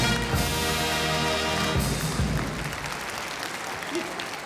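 Audience applause at a Cologne carnival session: a dense crowd clapping loudly at first, then thinning and fading over a few seconds, with a faint voice near the end.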